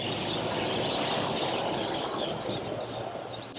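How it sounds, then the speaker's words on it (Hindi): Birds chirping in the trees along Orchard Road in Singapore at night, a busy chorus of bird calls over steady city background noise, heard without talk. "यहाँ पे पेड़ों पे चिड़ियों की आवाज़"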